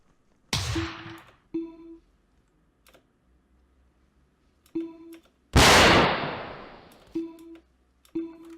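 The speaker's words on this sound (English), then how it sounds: "he's throwing another grenade, so Paquito is dead" Two loud grenade blasts in a military squad-tactics video game, each a sharp burst that quickly dies away, spaced several seconds apart, with rapid computer keyboard clicks scattered between them.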